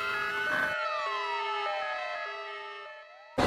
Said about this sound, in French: l'ambulance est là pour toi.